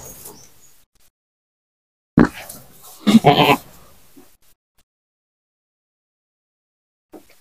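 Goats in a pen where a kid has just been born bleat in two close, loud bursts: one short cry, then a longer wavering call a second later, with quiet gaps around them.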